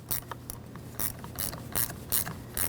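A ratchet tightens the battery terminal nut on a Dodge Grand Caravan, producing quick bursts of clicking in a repeated back-and-forth rhythm, close and faint.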